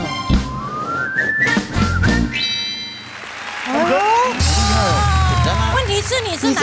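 A person whistles a lively melody, bright pitched phrases rising and falling close by, with laughter and voices breaking in around it and a little clapping.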